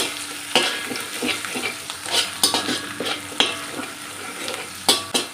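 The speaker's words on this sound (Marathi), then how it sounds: "आता आपण हे छान मिक्स करून घ्यायचं आहे म्हणजे आलं हलकंसं फ्राय होईल आपलं" Finely chopped ginger and green chilli are stir-fried in a pan for vegetable hakka noodles. A close, steady sizzle carries repeated scraping and tapping of the spatula against the pan, with no speech.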